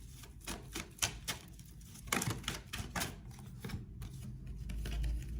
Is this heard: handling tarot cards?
yes